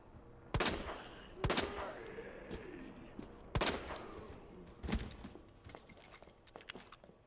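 Pistol gunfire in the Resident Evil 2 remake, about six sharp single shots fired at uneven intervals, each a loud crack with a brief tail, with quieter clinks and ambience between.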